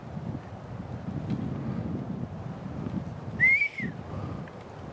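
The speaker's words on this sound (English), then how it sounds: "Oh, I got whistles." A single whistle heard outdoors in the woods, a short clear rising-and-falling tone rising briefly above steady wind noise, moderately loud and alone with no talk.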